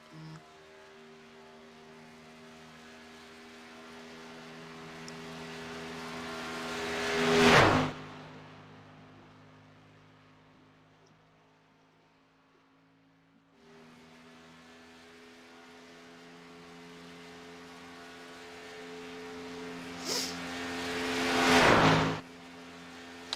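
Race cars lapping Daytona in a racing video game, engines swelling as each pack approaches and roaring past close by twice, about fifteen seconds apart, with the drone fading between passes.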